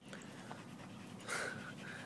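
Dogs lying in dry dirt on a hot day, panting steadily in quick rhythmic breaths close by, with a brief louder breathy burst partway through.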